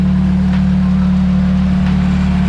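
A car engine runs steadily after repair work for a blown engine, a loud, even low hum close by with no revving, alone without talk.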